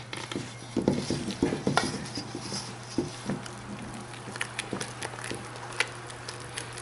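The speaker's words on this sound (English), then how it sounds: "Get your spatula and stir that in, taking particular care to make sure that you get dried bits off the side of" A spatula stirs bran muffin batter in a bowl, scraping dried bits from the sides, giving soft irregular scrapes and light clicks over a steady low hum.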